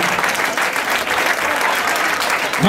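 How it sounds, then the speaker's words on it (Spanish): An audience at an evening church worship service applauds: continuous, loud, dense clapping from many hands filling the whole stretch without a break. "Un aplauso para el Rey de Reyes y Señor de Señores."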